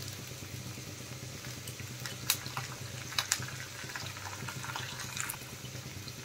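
Curry leaves drop into hot oil for a South Indian sambar tempering. A steady bubbling sizzle runs throughout, with a few sharp crackling pops standing out close by.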